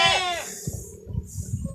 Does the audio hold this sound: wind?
no